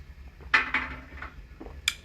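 Pots and pans clatter in a home kitchen while dinner is cooked, a few sharp metallic clanks and clinks spaced irregularly, fairly faint and set back in the room.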